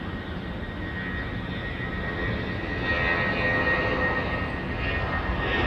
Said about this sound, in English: Kiwi friends now departing to Wellington. The A320 runway 23.